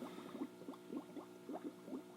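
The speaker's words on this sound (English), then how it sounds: "It's okay, yay, it works, but boy is that bubbling sound obnoxious." Water burbles and gurgles in a small homemade tiki-island water feature, a quiet, close series of irregular bubbling pops over a faint steady hum.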